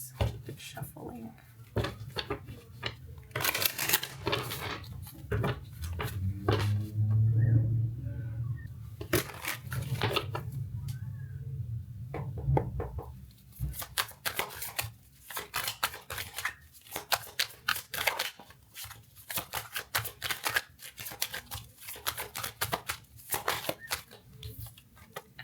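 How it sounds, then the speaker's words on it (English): Tarot cards being shuffled close by, repeated quick riffles and soft clicks with bumps and handling noise; a voice speaks briefly partway through. "Good shuffling."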